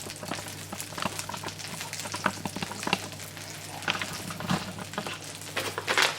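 Minced meat sizzles and crackles in a pan with no added oil, cooking in its own fat, with a steady close frying hiss broken by occasional stirring scrapes and pops.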